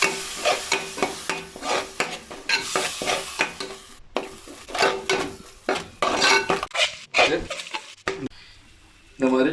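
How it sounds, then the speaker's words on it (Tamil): Ground masala paste being stirred into a fish curry in a pan for Chettinad vanjaram (seer fish) kulambu, with a steady sizzle and repeated scraping and clinking of a spoon against the pan. A voice speaks over parts of it. "ஊற்றிட்டு நல்லா மிக்ஸ் பண்ணணும்."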